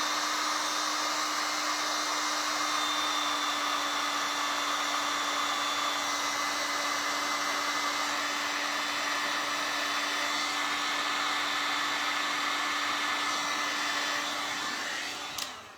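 A heat tool blows a steady, loud, even whoosh with a constant whine while warming hot glue on a refurbished cross and frame craft, running without a break until it clicks off at the very end, no speech.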